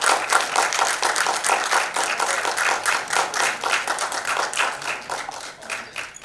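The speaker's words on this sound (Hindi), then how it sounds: "जोरदार तालियां।" Loud applause for Anu Malik at an award ceremony, a dense audience clapping vigorously and continuously, close and strong, slowly easing toward the end.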